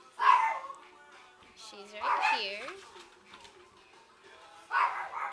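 Maltipoo puppies give short, high yips and small barks in brief bursts at the start and end, mixed with a woman's close, continuous talking.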